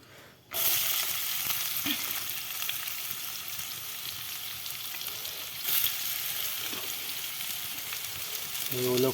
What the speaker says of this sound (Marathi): तेल तापत आलं आता त्यात कांदा टाकूया